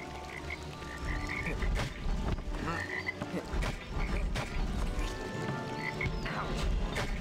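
A frog in A Series of Unfortunate Events: The Reptile Room game croaks loudly and repeatedly in short bursts, layered over game music and thuds.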